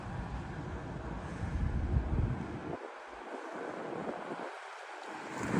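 Strong, cold wind buffets the microphone outdoors in Dyker Heights, Brooklyn, in a steady, rough roar, dropping out briefly in a couple of spots before gusting back.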